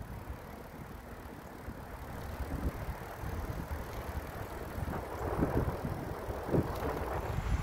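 Bicycle rolling slowly along a road, a faint continuous tire and wind rumble with occasional light rattles, no talk.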